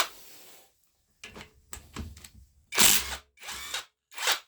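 A cheap AliExpress impact wrench set to maximum unscrews a fastener, with short bursts of whirring and hammering separated by pauses, the last three bursts loud and close.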